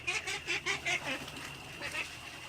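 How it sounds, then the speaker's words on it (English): A duck squawks loudly outdoors in a burst of repeated honking calls, then a shorter call follows after a pause, over steady background hiss. "this duck's going crazy."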